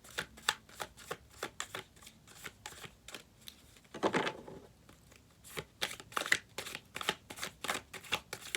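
A tarot deck is shuffled by hand in steady, crisp riffles and flicks, repeated card-riffle bursts at close range and fairly quiet, with no voice heard.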